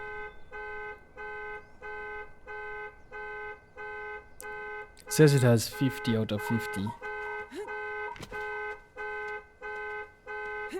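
A car alarm sounds in the video game The Day Before, repeating steady electronic honking pulses about twice a second. The pulses continue under a voice and a brief burst of other game noise.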